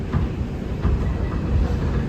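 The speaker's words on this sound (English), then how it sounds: "This is a Wakefield-bound 2 train." A Wakefield-bound 2 train on the New York subway rumbles along with a steady low roar and faint rhythmic track thumps, heard from inside the car.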